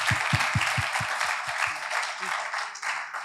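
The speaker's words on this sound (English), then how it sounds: "let us give a round of applause again" A hall audience at a youth church assembly claps, with sharp, loud individual claps at first that blend into a dense, steady wash of applause, then tapers slightly near the end.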